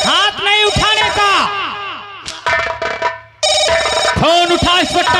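A telephone rings in repeated bursts during a rowdy nautanki comedy skit, loud and close, with shouting voices and music layered underneath.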